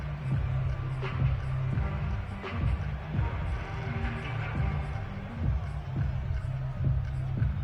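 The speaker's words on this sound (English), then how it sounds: "That just means this crowd's going to get even louder." Stadium crowd noise in a Madden football video game: a steady, low roar of massed voices and babble swells throughout, with occasional sharper accents, under a faint broadcast voice.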